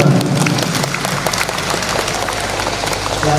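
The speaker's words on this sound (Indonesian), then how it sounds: "Tepuk tangan untuk mereka semua." Applause for the Qur'an quiz teams at a provincial MTQ competition in NTB, a dense patter of many hands clapping together, sustained and fairly loud throughout with no voices over it.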